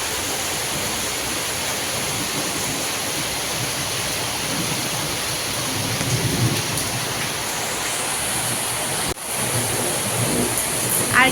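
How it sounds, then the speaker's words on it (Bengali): Heavy rain pours steadily outdoors, with low thunder rumbling midway and a sharp crack near the end, loud and continuous with no talking. "আর কিরকম মেঘ ডাকছে তোমরা বুঝতে পারছো, প্রচুর মেঘ ডাকছে, বৃষ্টি হচ্ছে"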